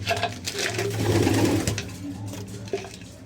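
Low, rolling pigeon coos swell and fade close by, with a faint rustle and a soft click near the end.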